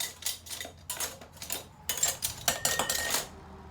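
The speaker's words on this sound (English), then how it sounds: "We'll go ahead and put our lids on" Metal canning lids being set onto the rims of glass jars, a quick run of sharp clinks and taps in separate bursts, close and fairly loud, with no voices.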